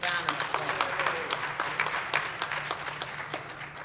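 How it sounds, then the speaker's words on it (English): A crowd at a Brooklyn event for the borough president gives a big round of applause, a steady wash of clapping with distinct sharp claps, while a voice speaks over it. "Give him a big, big round of applause."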